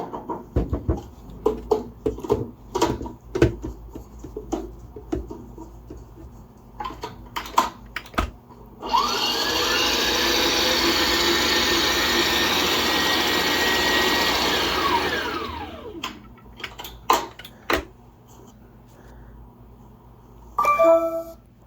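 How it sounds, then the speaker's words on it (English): An electric mixer whips homemade body butter in a bowl, a steady loud motor whir with scraping that runs for about seven seconds, set between quieter stretches of clicking and tapping of hand mixing, with no speech. "I'm just mixing it before I put it back on the mixer"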